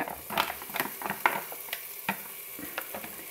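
Onions, garlic and lardons frying in a Moulinex multicooker, with a soft sizzle and several quick scraping stirs in close succession.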